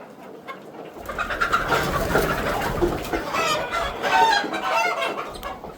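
A flock of hens pecking at grain clucks and murmurs continuously nearby, with overlapping soft calls that swell and fade over the scene.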